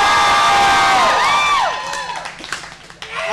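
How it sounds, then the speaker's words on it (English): An audience at an open stage show cheers loudly, with whoops and shouts rising over a dense crowd roar. The noise eases after the first half but keeps going with scattered yells. "Guys, cheer how much you thought that was nuts."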